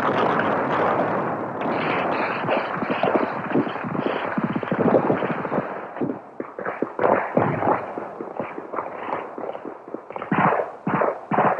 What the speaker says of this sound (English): Camino, I want artillery on that hill, and I want it now.